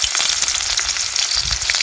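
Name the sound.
fenugreek and fennel seeds sizzling in oil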